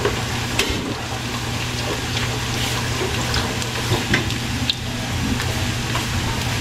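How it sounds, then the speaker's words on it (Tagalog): Water is poured into a cooking pot in a home kitchen to heat for noodle broth, a continuous splashing fill over a low steady hum with a few faint clinks, and no one speaks. "Ay sa kabila, magsasalang ako ng tubig."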